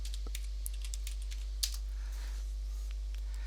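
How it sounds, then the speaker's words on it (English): Typing on a computer keyboard, a quick string of light, close key clicks over a steady low electrical hum, with no talking. "So I'm going to type in here Zotero."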